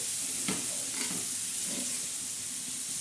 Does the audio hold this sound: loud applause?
no